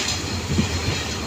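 The Hazara Express passenger train running at night between Mubarakpur and Karachi, a steady close rumble of wheels on track with a faint metallic squeal.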